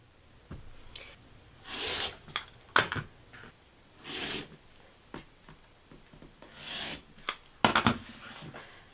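Quilting fabric is cut into pieces for a quilt block with a series of close, short slicing and rubbing strokes, separated by brief pauses and with no talking.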